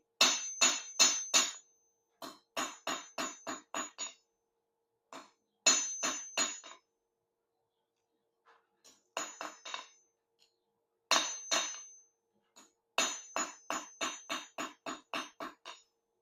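Hammer blows flatten hot thin metal for a homemade thumb ring, ringing clinks coming in quick bursts of four to eight strikes with short pauses between them, close and sharp.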